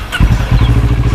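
Custom Kawasaki ER6 600cc motorcycle with an aftermarket exhaust and tuned ECU, starting up close by: a brief crank, then a loud, lumpy engine firing into a rapid throbbing idle.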